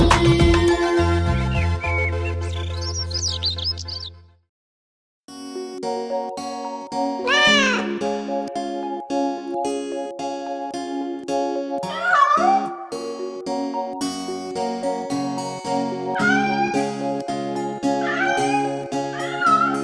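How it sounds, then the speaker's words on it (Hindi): Several drawn-out cat meows rise and fall over a bouncy musical backing, with a short pause partway through before the music and meows resume. "एक बिल्ली हमारी कैसे बैठी बेचारी"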